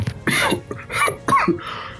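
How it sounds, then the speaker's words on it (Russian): Several rough, raspy coughs from a Resident Evil 6 game character come in quick bursts, close and fairly loud, with brief pauses between them. "Хотел бы я, чтобы этот кашель прекратился."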